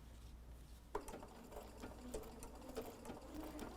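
A sewing machine stitches slowly around appliqué fabric letters on a pieced heart quilt block, a close, steady mechanical whir with a faint rhythmic ticking of the needle and a small clunk as it starts, with no talking.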